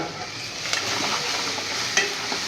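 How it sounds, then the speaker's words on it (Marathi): Turmeric, ginger and curry leaves fry in hot oil for a vada pav filling, a steady close sizzle with soft stirring scrapes and one brief sharper clink near the end. "मिक्स करायचं सारखं आणि मसाले चांगले तळू द्यायचे"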